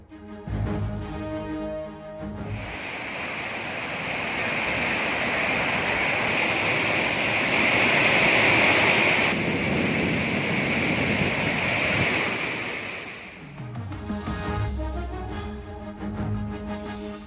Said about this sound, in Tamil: திருப்பரப்பு அருவியில் வெள்ளப்பெருக்கு